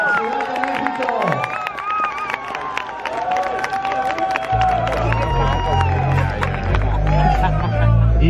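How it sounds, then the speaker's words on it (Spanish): Crowd cheering and clapping at the swimsuit final of the Mr. Model 2023 pageant, with steady applause, whoops and babble throughout and loud amplified music with a heavy beat joining partway through. "¡Que se escuchen los aplausos!"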